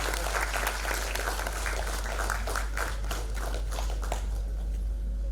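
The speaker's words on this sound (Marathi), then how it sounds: "टाळ्या होऊन जाऊ देत एका त्यांच्यासाठी" Sustained applause from an audience at the Maharashtra Ratna award ceremony in Pune, dense overlapping claps running steadily throughout over a constant low hum, with no speech.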